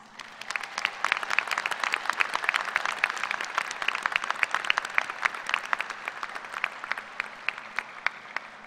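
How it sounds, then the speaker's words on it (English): A graduate school commencement audience at K-State gives a sustained round of applause, dense steady clapping from a large crowd throughout, fairly loud and without talk. "giving them a loud round of applause"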